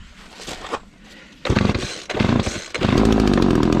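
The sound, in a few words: McCulloch Mac 3818 chainsaw engine starting and running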